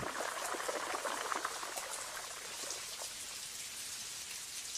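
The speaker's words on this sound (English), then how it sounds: "Spouts on the roofs channel rain into 2 courtyards." Steady rain falls and patters on castle roofs, with a constant hiss of drops and no voices.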